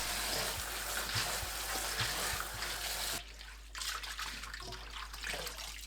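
Spring greens are rinsed in water, with splashing and sloshing up close, busier at first and then quieter with sparse dripping and swishing, no voices.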